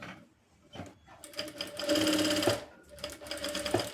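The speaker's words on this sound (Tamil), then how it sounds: "இப்படி வச்சுட்டு இப்போ தையல் வந்து போடுறோம்." Sewing machine stitching a blouse patch, running in bursts with a short pause, steady whirring and clacking close by, no talk.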